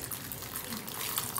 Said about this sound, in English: I'm just going to pour it in on the apple